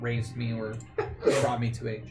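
A single sharp sneeze bursts out amid ongoing conversation, brief and close, with speech continuing right around it.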